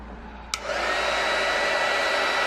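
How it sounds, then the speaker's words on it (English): Small electric heat tool switched on to dry watercolor paint, a click followed by a loud steady blowing whir that holds constant to the end. "You can either let it dry naturally or use a heat tool."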